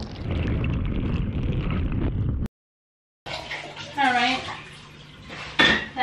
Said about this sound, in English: you want to put water in the pot